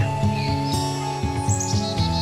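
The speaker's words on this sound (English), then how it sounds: "bird" A bird chirping in a forest, a few quick bright tweets over a sustained musical bed of steady tones and soft rhythmic notes, with no speech.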